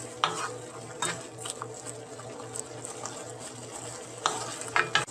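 Samosa chaat being mixed in a bowl, with soft stirring and scraping sounds and a few sharper clinks of a utensil against the dish, fairly quiet and steady with no talking.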